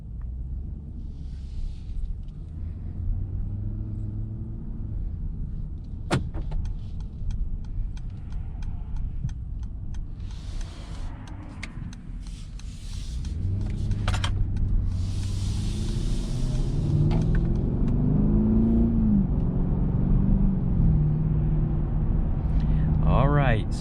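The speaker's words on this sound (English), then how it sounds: "So driving this 2021 GLS 580, very comfortable." A 2021 Mercedes GLS 580 SUV drives on a road, its low engine and road rumble heard from inside the cabin as a steady hum that grows fuller under acceleration, with a person talking over it throughout.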